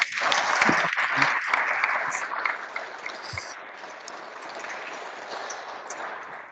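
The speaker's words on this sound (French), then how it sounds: "Je ne sais pas si vous allez entendre les applaudissements qui sont pour vous." Audience at a church conference on Saint Joseph applauding, a dense, steady clapping that is strongest at the start and gradually thins and fades over several seconds.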